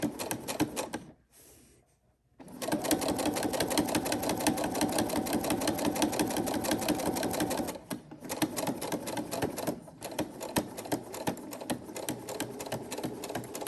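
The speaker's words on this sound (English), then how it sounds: "So I'm just gonna stitch forward and reverse." A sewing machine stitches a zipper pouch, running in a fast, steady, rattling rhythm close by, stopping briefly twice for a pause before running on again when going forward and reverse.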